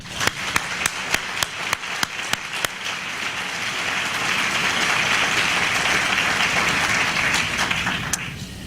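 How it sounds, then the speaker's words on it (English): Graduating students receive applause at a college of public health pre-commencement event, starting with a few distinct slow claps that swell into a dense, sustained round from the crowd. "let's start off by giving them a round of applause"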